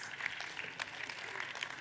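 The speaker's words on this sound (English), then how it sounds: "Give yourselves a round of applause." An audience applauds, a light, fairly faint patter of clapping from a small group that stays even throughout the short stretch.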